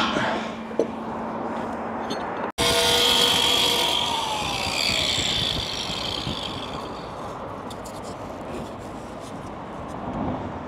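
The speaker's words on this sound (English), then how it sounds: "Hey, give me that drill up." A power drill on a hand-carved wooden cross being fitted onsite starts abruptly after a brief pause, whining loudly at first and then settling into a steady grinding drone that carries on for several seconds, with outdoor background noise.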